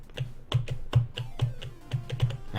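Computer keyboard struck hard during a game-development speedrun, a series of loud, irregular, close-up key clacks spaced a few tenths of a second apart.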